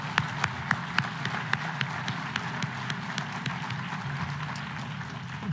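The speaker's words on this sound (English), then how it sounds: "How about a nice round of applause for everyone this morning" A conference audience gives sustained applause, an even wash of many hands with a few sharper nearby claps standing out, no talk over it.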